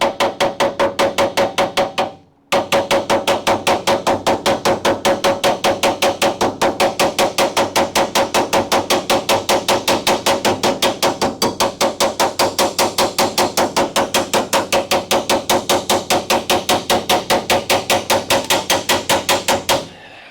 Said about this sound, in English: Got the hammer, I got the dolly, I got my flat stock.